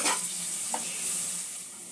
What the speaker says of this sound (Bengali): সামান্য একটু জল দিয়ে মশলাটা কষে নেব